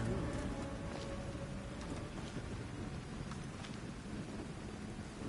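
A steady rumble of rain and thunder in the ancient Greek world of Assassin's Creed Odyssey, with dense, continuous downpour and low rolling thunder holding an even loudness throughout.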